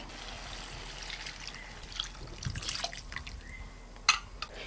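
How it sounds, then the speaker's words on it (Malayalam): Coconut milk poured into a simmering egg curry makes a quiet, soft trickle with a few scattered drips, close by and alone with no talking. "അപ്പോൾ ഇനി നമുക്ക് ഈ പാല് നമ്മുടെ കറിയിലേക്ക് ചേർത്ത് കൊടുക്കാം"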